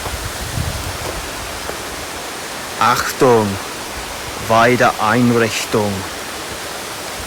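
Steady loud rushing water on a mountain, likely a stream or waterfall, fills the whole stretch as a constant broadband roar while someone speaks briefly over it.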